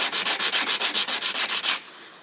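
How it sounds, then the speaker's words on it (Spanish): Mosaic pieces being sanded by hand in about a dozen quick, even rasping strokes, close and loud, then stopping abruptly into faint room noise. "en lijar tanto las piezas"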